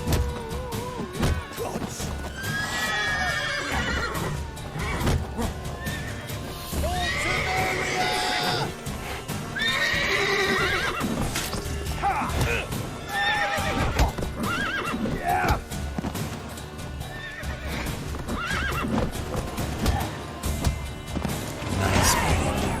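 Galloping horse in The Witcher 3, a steady clip-clop of hooves with loud neighs and whinnies over a busy game soundtrack, close and continuous throughout with occasional thumps.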